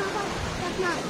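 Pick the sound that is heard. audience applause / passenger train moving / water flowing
water flowing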